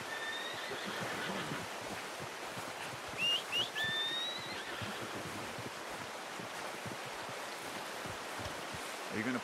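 Horse whinnying in the video game Red Dead Redemption 2, a brief high neigh rising over steady wind and rushing outdoor ambience, fairly faint and distant.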